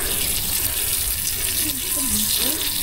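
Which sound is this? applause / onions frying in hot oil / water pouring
water pouring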